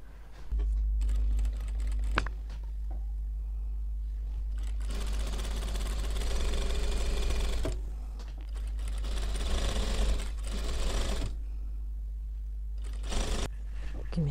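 A sewing machine stitches pieces of a white headscarf together, running in steady rapid bursts up close, pausing briefly between runs, with no talk.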